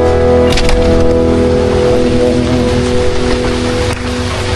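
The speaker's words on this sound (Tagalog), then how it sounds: "Habang maulan ng panahon." Steady rain pours down continuously during wet weather on a trip through Aurora province, a loud, dense wash of drops that fills the whole stretch with no talking.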